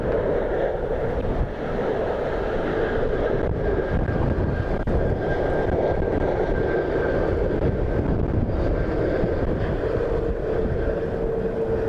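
An airliner lands on runway 28L at Dublin Airport during a storm, heard as a continuous loud roar of engines and wind noise with a faint steady whine, without speech.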